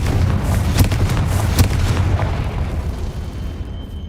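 A Confringo fire spell explodes in the video game Hogwarts Legacy, giving a loud, rumbling boom with a few sharp bursts that fades into quiet at the end.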